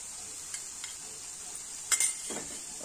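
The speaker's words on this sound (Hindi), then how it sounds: "इसे भी हम पूरी चटनी में मिला लेंगे।" A spoon stirs chopped coriander into a soya chunk chutney in a pan over a faint, steady sizzle, with a few soft scrapes and one brief louder clink.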